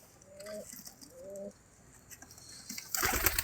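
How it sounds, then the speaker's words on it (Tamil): Pigeons coo in a loft: two clear, low, rolling coos in quick succession, close by, followed by quiet rustling and then a louder burst of flapping or shuffling near the end. "இதை நம்ம இதெல்லாம் மேலு கோயில் புறான்னு சொல்லுவோம், மேல் கோயில் புறா"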